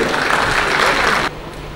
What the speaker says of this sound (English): I'd like to give applause to the total